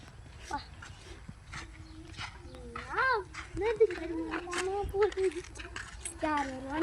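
A dog whimpers and whines in drawn-out, rising tones through the middle and end, with short barks among them, while people talk nearby.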